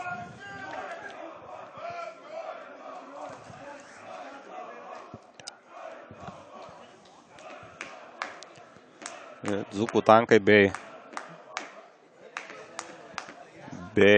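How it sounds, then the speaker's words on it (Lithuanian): Spectators at Alytus stadium chant for Dainava during a football match against Banga, a loud rhythmic crowd chant swelling near the end over general crowd noise, with a commentator talking throughout. "Alytaus stadiono žiūrovai skanduoja Dainava"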